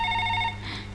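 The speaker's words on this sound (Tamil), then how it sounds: "பாரதி ஃபோன்." A telephone ringing indoors in a Tamil comedy scene: a bright, buzzing ring tone held for about half a second before stopping, set over a steady low background hum.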